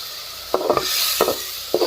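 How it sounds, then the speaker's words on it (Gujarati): Spice tempering sizzling in hot oil in a home kitchen, a loud steady hiss with a few sharp knocks of a spoon against the pot. "બાએ જો વઘાર નાખી દીધો"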